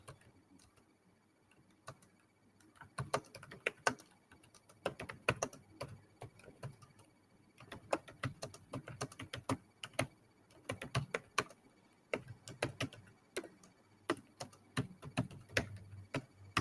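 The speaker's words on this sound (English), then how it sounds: "I'll type for you that one." Rapid, uneven keystrokes clatter on a computer keyboard in close, quiet surroundings, arriving in bursts with short pauses between runs of typing.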